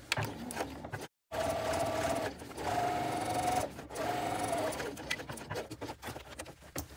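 A sewing machine runs steadily, top stitching along the side panel of a tote bag with a long stitch length. The motor hums in a few sustained bursts with short pauses between them, close and moderately quiet.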